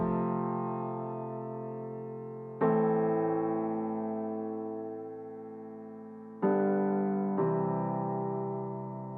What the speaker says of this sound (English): for this I just used the piano from Addictive Keys, the Imagine Grand preset to be more precise